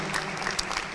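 Audience at a green conference in a Colombo hotel ballroom applauding, a brief, fairly quiet burst of steady clapping with no voices over it.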